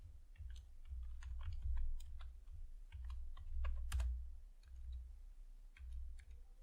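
Steady keystrokes on a computer keyboard while writing Python code for a library management program, clicking in irregular bursts over a low background hum, with no voice.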